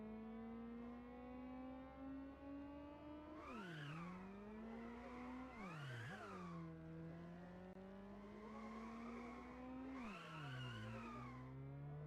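A car in a video game holds a steady, tonal engine drone with the throttle kept open, dipping and swooping several times as gears shift and tires scrub, synthetic and continuous.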